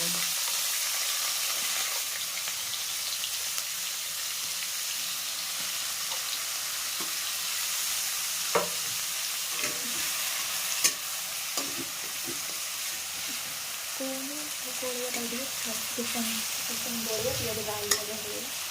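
Chopped onions fry and sizzle in a pan with a steady hiss, broken by occasional stirring scrapes and clinks of a utensil, heard close.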